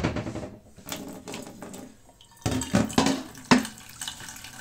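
Tap water runs into a pot for cooking pasta, a gushing stream with shifting pitch broken by a few sharp clanks and splashes of the pot under the faucet.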